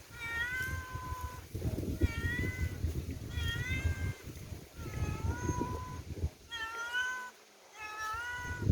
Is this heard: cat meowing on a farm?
yes